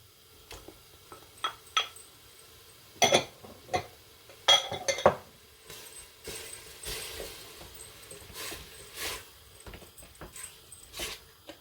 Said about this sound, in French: Je vais mettre les pois chiches.